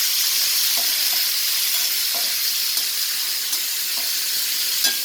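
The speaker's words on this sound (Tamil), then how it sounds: "நல்லா பொன்னிறமாக வறுத்துக்கலாம்" Dried turkey berries fry in hot sesame oil, giving a loud, steady sizzle and hiss with small pops and crackles scattered throughout.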